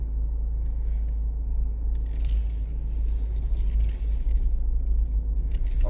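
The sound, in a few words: car driven around a parking lot after wheel repair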